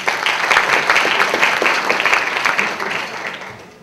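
Audience applause after a talk by a urologic oncology surgeon, a dense burst of many hands clapping that holds steady and then begins to fade near the end.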